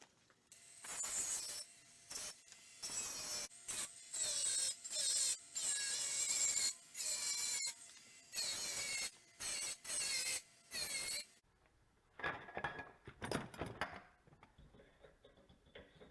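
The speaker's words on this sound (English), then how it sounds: "Just a regular old Dremel with a cutoff disc." A Dremel cutoff disc cutting into a copper radiator in a series of loud, gritty, high-pitched bursts, each lasting about a second, separated by brief pauses, then trailing off into quieter scraping.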